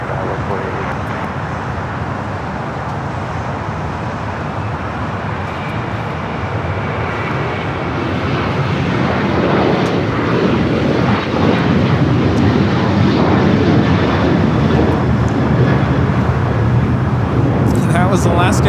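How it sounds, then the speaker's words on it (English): An Alaska Airlines Boeing 737-900ER jet takes off at LAX, its broad engine roar steady and then swelling louder and closer as it gathers power, with radio chatter faintly present underneath. "That was Alaska Airlines 1374 taking off to Loretto on the 737-900ER"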